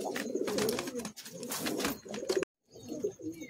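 Pigeons in a Kolkata loft of high-flying Madrasi birds coo in soft, throaty bursts, close by, with a brief break in the sound partway through.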